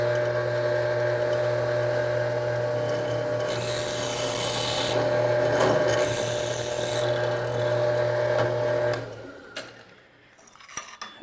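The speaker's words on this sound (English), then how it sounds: "And then drill the next hole." A drill bores a hole through an aluminum plate in a workshop, a steady close whine with a rising gritty cutting burst, then winding down and stopping near the end.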